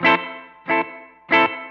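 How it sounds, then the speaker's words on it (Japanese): An electric guitar run through the room reverb of a ZOOM MS-50G multistomp pedal: three strummed chords, each with a short decaying tail, in an even rhythm, loud and with no talk. "これルームリバーブですね。"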